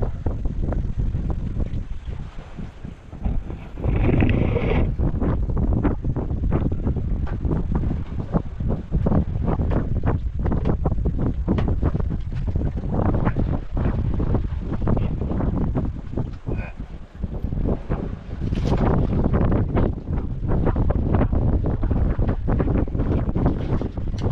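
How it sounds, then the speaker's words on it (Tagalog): Strong wind buffets the microphone on a fishing boat out at sea, a steady loud roar with gusty surges and rumbling low noise throughout, broken only by brief dips in intensity. "Lumakas naman ang hangin."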